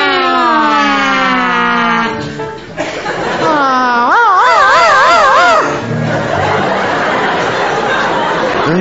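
A voice imitates a wailing siren, rising and falling in wavering tones, with laughter and chatter breaking in around it.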